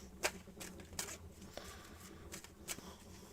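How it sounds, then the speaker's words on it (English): Tarot cards riffled and shuffled by hand at close range, a few quick papery bursts with short pauses between them, quiet and with no voices. "Cleansing the cards off, you get a 7 shuffle."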